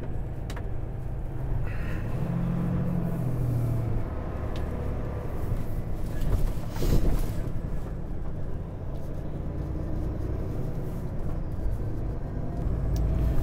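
Car cruising on a two-lane freeway, with a steady, moderate rumble of road and engine noise from inside the cabin and a brief swell of passing traffic midway.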